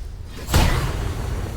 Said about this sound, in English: And Booming Blade misses.